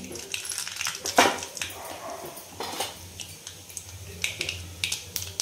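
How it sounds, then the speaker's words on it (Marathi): Mustard seeds hit hot oil in a kadhai, giving scattered sharp pops and crackles with light clinks of a utensil, close and moderately loud. "तेल गरम झालेलं आहे, त्याच्यामध्ये आपण मोहरी टाकून घेऊ थोडीशी।"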